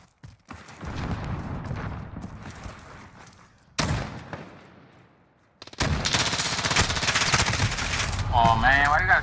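Video game shotgun and automatic gunfire crackles in dense, loud bursts, breaking off briefly before another sustained volley, with a voice talking over parts of the action.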